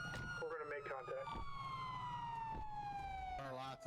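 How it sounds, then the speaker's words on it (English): A police car siren in a roleplay video game wails loud and continuous, its tone sliding slowly downward, while a voice speaks briefly over the start and the end. "Turn our lights and sirens off, or at least turn your sirens off."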